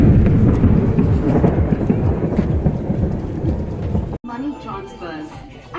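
A heavy rainstorm with rolling thunder, a dense, steady roar of falling rain that cuts off abruptly near the end, giving way to quieter sounds.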